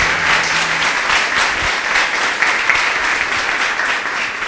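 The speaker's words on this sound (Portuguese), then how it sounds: "Louve ao Senhor com suas palmas" A church congregation claps loudly and steadily during a sermon, a dense wash of hands filling the room at a strong, even level throughout.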